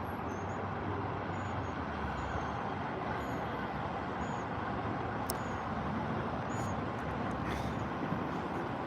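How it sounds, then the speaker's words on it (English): Rush hour traffic streams along the Washington D.C. Beltway, a continuous dense roar of cars and trucks heard from a distance with occasional faint hisses and brief higher squeals. "this is the Washington, D.C. Beltway. We're enjoying watching rush hour traffic because we're not in it"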